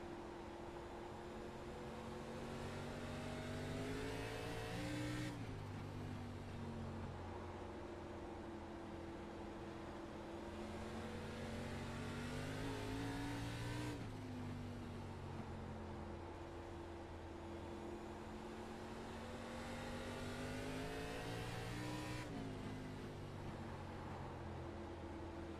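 ARCA race car engine at South Boston, loud and steady from onboard, its pitch rising with throttle, then dropping sharply at about 5, 14 and 22 seconds before climbing again in repeated cycles.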